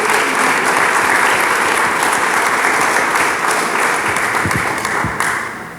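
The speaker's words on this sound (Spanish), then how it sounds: "dele palmas al Dios del cielo." A church congregation claps during a Spanish-language sermon, producing loud, dense and sustained applause that stays steady from start to finish and eases off slightly at the very end.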